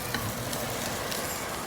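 Cabbage sautés in a pan with a steady, close sizzle and faint stirring scrapes, no voices over it.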